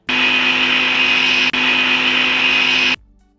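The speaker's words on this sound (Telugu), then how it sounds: "అన్నీ వేసి మంచిగా మిక్సీ అయితే పట్టాలి" A mixer grinder whirs loudly and steadily as it grinds whole biryani spices such as cumin, fennel, poppy seeds, coriander, ginger and garlic. The motor drones for about three seconds with one brief dip, then cuts off abruptly.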